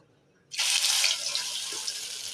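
An egg dropped into hot oil in a pan sets off a sudden loud sizzle after a brief quiet moment. The bright crackling hiss holds steady and close, with no talking.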